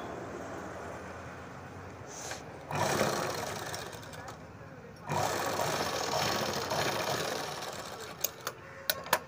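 A sewing machine stitching a shoulder joint seam joining back and front garment pieces, two loud running bursts of stitching separated by a quieter pause, with a few sharp clicks at the end.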